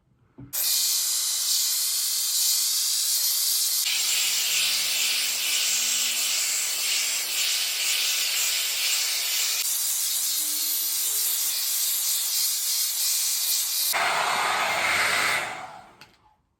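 A Mermade interchangeable blow dry brush roars steadily while drying hair, a loud continuous airy blast lasting about fifteen seconds with slight shifts in tone as the brush is repositioned, then cutting off.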